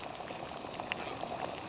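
Creek water from a camp bucket bubbles at a rolling boil in a pot on a camp stove during a winter backpacking trip, a steady soft gurgling with small pops, close and fairly quiet.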